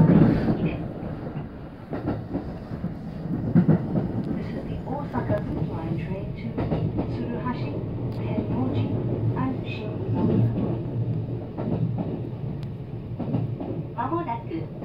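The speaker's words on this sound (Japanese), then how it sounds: "この電車は環状線外回り鶴橋天王寺新" A JR West Osaka Loop Line train on the outer loop runs with a steady low rumble and rhythmic clatter of wheels over rail joints, heard from inside the car. A public-address voice speaks over the running noise throughout.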